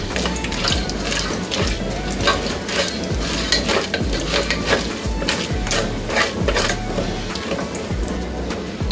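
Chana dal and urad dal fry in hot oil in a pan, a loud continuous crackling sizzle with rapid popping spatters and a few scraping stirs, with no voices.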